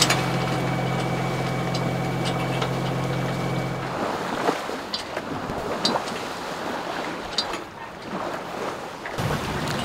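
Sailboat motoring under engine power on a solo passage toward Istanbul, a steady engine drone that drops away partway, then wind and splashing water against the hull, loud and close.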